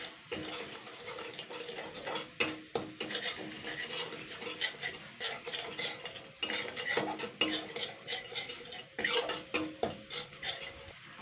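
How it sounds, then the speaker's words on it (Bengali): A spoon scrapes and stirs spices frying in a kadai, with kasuri methi, salt and sugar added, making steady rhythmic metallic scraping and soft sizzling, close and alone without talk. "এবার আমি এটাকে ভালো করে মশলাটাকে আগে কষিয়ে নেব ভালো করে"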